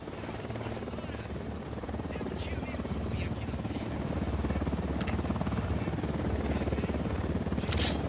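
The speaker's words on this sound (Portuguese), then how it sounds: "Helicóptero da unidade, em patrulha." Patrol helicopter from Ghost Recon Wildlands, a steady close rotor thump and engine drone that grows slightly louder, with a game voice speaking over it.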